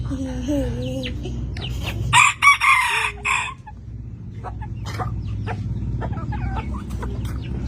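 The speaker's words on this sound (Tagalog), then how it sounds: "Where did you get this chicken again?" A rooster crows loudly and close by, with clucking fowl around it and a dog briefly audible, while people chat in the background.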